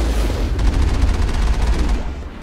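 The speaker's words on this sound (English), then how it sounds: "Who is shooting me?" Rapid bursts of automatic gunfire from the Mass Effect video game, shooting against a geth shock trooper, a loud, continuous rattle of repeated shots with heavy low booms throughout.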